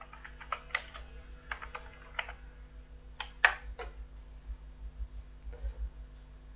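Typing on a computer keyboard: short, quick bursts of keystrokes separated by brief pauses, close and fairly quiet over a low steady hum.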